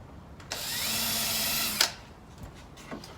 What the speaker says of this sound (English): pre-drill with that 1/8" drill bit